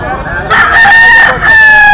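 A young rooster, a stag about eleven months old, crows at an outdoor gamefowl market, a loud, close, drawn-out call broken into a few bursts while people talk nearby.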